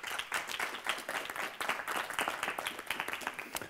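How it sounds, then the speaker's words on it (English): An audience gives a speaker a warm round of applause at a climate-change philosophy talk, a dense, steady patter of many hands clapping at moderate distance throughout. "So a warm applause to Wouter."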